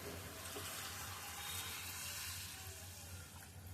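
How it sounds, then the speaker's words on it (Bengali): Cold water pours steadily into a cooking pot, a continuous rushing splash that holds evenly for several seconds with no talking. "এবার আমি জলটা দিয়ে দিচ্ছি। জলটা কিন্তু একবারে ঠান্ডা জল,"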